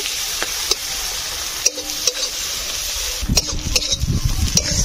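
Chopped chili and onion fry in hot oil in a home kitchen, a steady soft sizzle with scraping stirs and clinks of a spatula against the pan, louder stirring toward the end.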